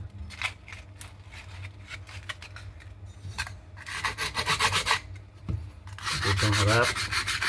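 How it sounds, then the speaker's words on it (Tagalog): Hand file rasping inside a broken aluminium alloy gun frame, repeated short scraping strokes in uneven rhythm, close and fairly loud, with brief pauses between bursts and a longer, harsher run of strokes near the end. "Lagay natin ganyan sa kikil para malihan natin yung loob."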